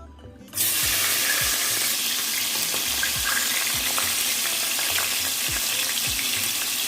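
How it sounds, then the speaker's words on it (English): Fish frying in a pan of hot oil for a stew, a loud steady sizzle that starts abruptly and holds throughout, with occasional soft knocks and stirring sounds underneath. "Now I'm going to be frying the fish."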